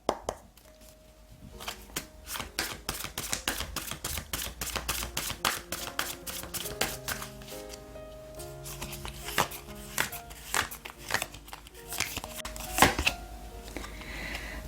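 Tarot cards being shuffled and laid out on a table: a steady run of crisp taps, flicks and soft slaps close by, with no talking.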